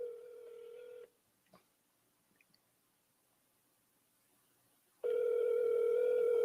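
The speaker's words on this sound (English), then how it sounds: "Come on, answer the phone, man." A telephone ringback tone sounds while a call waits to be answered: a steady buzzing tone lasts about a second, then a long silent gap, then the tone comes back loud and clear, with no talk.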